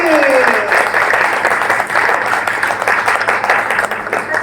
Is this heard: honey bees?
no